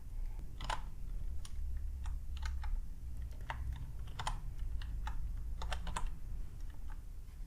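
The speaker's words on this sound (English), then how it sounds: "I was writing on a laptop." Steady typing on a laptop keyboard, irregular clusters of light key clicks close up over a low background hum, no talking.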